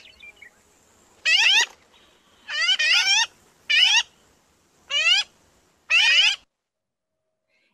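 A recorded magpie call plays through a kids' bird-count webinar: five loud, harsh, squawky bursts spaced about a second apart over near-silence, with a brief word of speech at the start.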